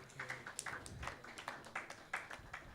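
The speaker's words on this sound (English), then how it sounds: "Let's give them a round of applause for the first section." Scattered clapping from a small audience at a presidential candidate debate, irregular and moderately close, without a full sustained roar.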